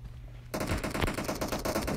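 Rapid automatic gunfire in PUBG Mobile's team deathmatch mode bursts in suddenly after a brief quiet moment and continues as a dense, loud, sustained stream of shots.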